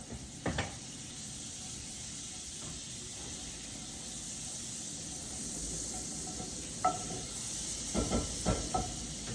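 Avocado oil and butter heating in a preheated pan give a soft, steady hiss and faint sizzle, with a few brief clinks and knocks of kitchen handling.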